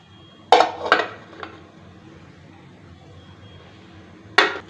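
Metal puttu bowls filled with coconut and tapioca puttu flour being set into an idli steamer pot: a few close clanks and clinks of metal on metal, then a pause and one more sharp clatter.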